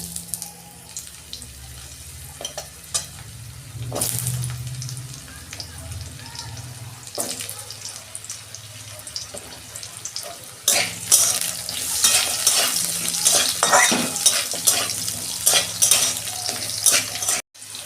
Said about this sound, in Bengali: আমি আলুগুলো একটু ভেজে নেবো